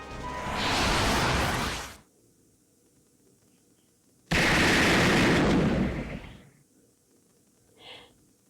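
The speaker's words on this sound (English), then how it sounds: "A gunshot? No, it's cannon fire." Cannon fire in the video game Fate/Grand Order lands as two loud, booming blasts a couple of seconds apart, each a broad roaring burst that fades out, followed by a faint short after-sound.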